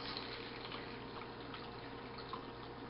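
Distilled water pours into a container in one steady, continuous hissing stream, close and fairly quiet, with no voices.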